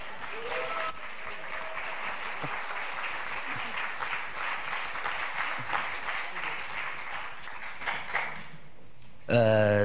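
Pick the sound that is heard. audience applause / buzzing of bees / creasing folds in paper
audience applause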